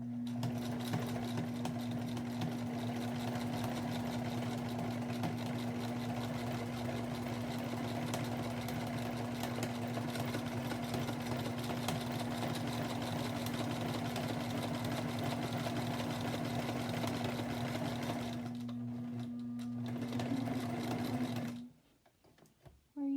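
A sewing machine stitches an appliqué border onto a quilt in one long, steady, droning run that lasts about twenty seconds before cutting off abruptly, leaving near silence.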